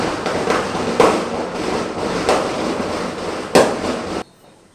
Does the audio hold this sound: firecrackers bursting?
yes